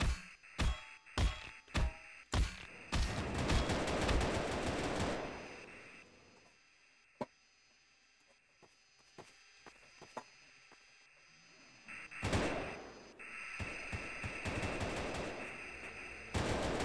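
Automated turrets in a zombie horde shelter-mode video game fire in rapid bursts, sharp repeated shots at the start, then scattered single impacts and beeps before another sustained volley of gunfire near the end.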